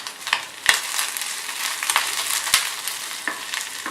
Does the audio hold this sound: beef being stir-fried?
yes